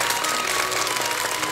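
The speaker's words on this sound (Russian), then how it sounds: "Аплодисменты Кириллу!" A brief burst of dense studio-audience applause on a health talk show, loud and continuous throughout, with no speech over it.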